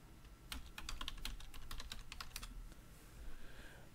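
Rapid clacking of computer keyboard keys in a quiet room, a steady burst of keystrokes for about two seconds, then a pause and a few more taps, with no talking.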